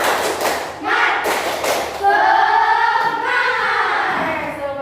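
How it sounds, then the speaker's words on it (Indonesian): Elementary school pupils in a classroom perform a patterned spirit clap, a few loud rhythmic claps and thuds close by, followed by children chanting together over more clapping. "Sekali lagi tepuk semangat"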